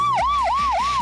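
A police car siren wails loudly and close during a chase after a white Volga in Irkutsk, rising and falling in rapid, even cycles over engine noise.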